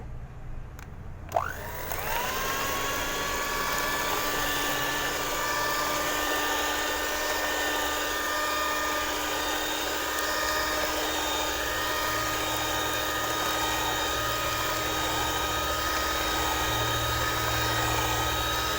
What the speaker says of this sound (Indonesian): Kita mixer dengan kecepatan tinggi